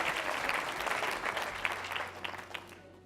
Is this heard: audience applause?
yes